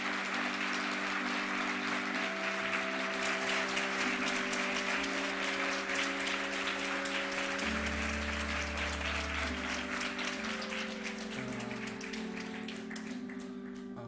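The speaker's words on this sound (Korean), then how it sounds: "우리 박수로 축하해드리겠습니다." A church congregation applauds at a ceremony installing a pastor and honouring a retiring senior pastor. Sustained clapping runs throughout over held instrumental tones and a low hum.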